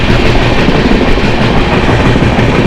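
Howrah–Ranchi Shatabdi Express running through a coal-mining area near Dhanbad, loud continuous rumble and clatter of the moving train heard from inside, steady and unbroken.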